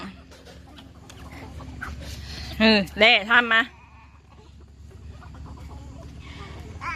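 Chickens being fed corn at a poultry seller's place make a short burst of loud clucking calls in the middle, while people talk steadily throughout.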